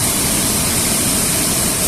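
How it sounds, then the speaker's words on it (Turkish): Floodwater from a flash flood off a creek surges through a town street, forming a loud, constant roar of rushing water that fills the whole clip with no break. "öyle bir sel geldi ki Borsuk Deresi'nden"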